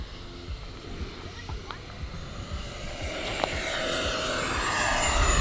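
A large RC F-16 Thunderbirds jet with a 70mm electric ducted fan makes a fast, roughly 100 mph pass outdoors, its airy whoosh swelling steadily louder toward the end over a constant broadband roar.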